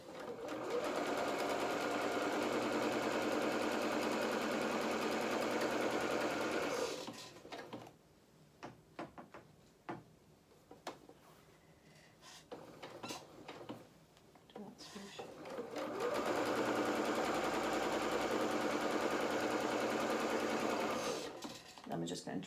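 Domestic sewing machine stitching a seam on a Marcel dress at a steady, moderate pace, two long loud runs of continuous motor whirr separated by a quieter pause with soft handling clicks, a voice talking over parts.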